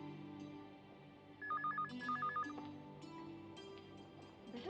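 A telephone rings in short two-tone bursts in a family home during a Hindi TV drama, moderately loud over a quiet indoor background with faint room noise.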